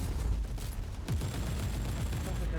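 Plasma cannon firing in a Warhammer-style video game against Chaos Marines, a sharp burst of blasts over a loud, dense battle rumble, with a descending sweep following the shot.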